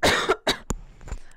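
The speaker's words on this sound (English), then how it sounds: "I'm gonna have to cough again." Three separate coughs come in close succession from a person near the microphone, each a short dry burst with a brief gap before the next, then quiet breathing.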